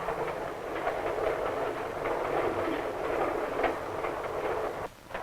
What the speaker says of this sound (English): While the train speeds into the dusk